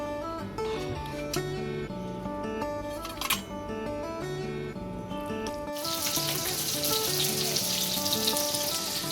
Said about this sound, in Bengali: মাছ ভাজা বসিয়ে দিয়েছি